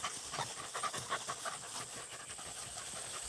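Beagle hound panting steadily and rapidly at close range during a rabbit hunt, quick rhythmic breaths over a hissy outdoor background with no talk.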